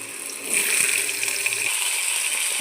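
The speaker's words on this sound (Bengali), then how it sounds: "তেলও গরম হয়ে গেছে এরপরে আমি আস্তে আস্তে সবজিগুলো ভেজে নেবো একটু একটু করে প্রথমে আলু দিচ্ছি" Potato pieces go into hot oil in a home kitchen, and a steady broad sizzle swells up and continues loud and close with no voices.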